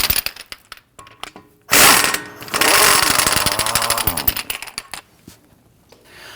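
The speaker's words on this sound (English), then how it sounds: "So let's go ahead and remove this bolt." Power tool spinning off a 15 mm bolt on the front steering knuckle of a 2009-2017 Volvo XC60 during wheel bearing work: a close, loud burst of rattling impact and whirring mechanism lasting a few seconds, framed by clicks and handling noises.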